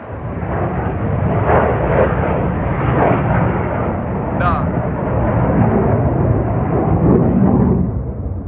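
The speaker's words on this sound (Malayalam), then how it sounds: "പലതരത്തിലുള്ള 4 ദിശയിൽ നിന്നും വിമാനങ്ങൾ പറന്നുയരുന്നു." A loud, continuous roar of fighter jets at a US military base fills the whole stretch, rumbling heavily overhead without letting up.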